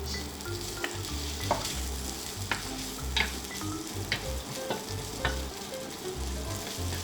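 Steady crackling sizzle of sausages frying in their own fat in an oil-free pan, with scattered pops and sharp ticks from a utensil stirring over a constant low hum.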